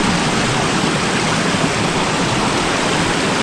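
River water flowing at night during rainy-season crab catching, a loud, steady rushing roar of moving water close by, constant with no voices.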